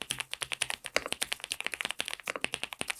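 Rapid clacky typing on a mechanical keyboard, crisp close keystrokes in an uneven flowing rhythm, with no voices.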